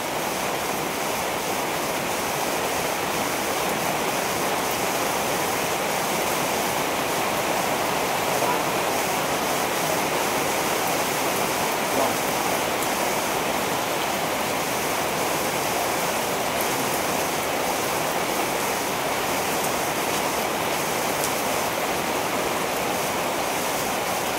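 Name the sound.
rain falling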